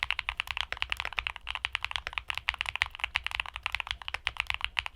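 Fast, continuous typing on a mechanical keyboard with Sakura switches, with muted, rounded clacks in a rapid, uneven rhythm, close up and without voices.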